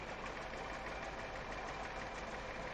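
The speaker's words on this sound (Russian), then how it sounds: "Где-то трактор там забуксовал." A tractor engine in the video game Farming Simulator 2015, its wheels slipping while stuck, drones in a steady, dense rumble that holds at an even level throughout without speech.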